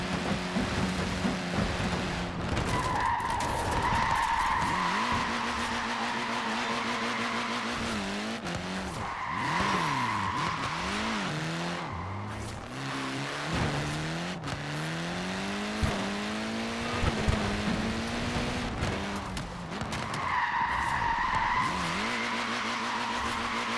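A Mini racing car, a former British Saloon Car Championship winner, skids through a run in Forza Horizon 4, with a steady engine drone, rising and falling revs and repeated tire squeals over continuous road and weather noise.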